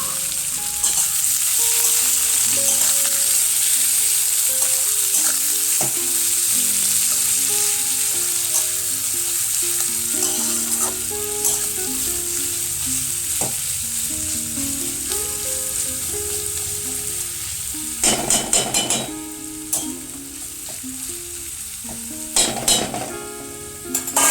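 Onion and garlic frying in a pan for chicken curry give a steady, loud sizzle throughout, with occasional scraping and clinks of a utensil stirring near the end.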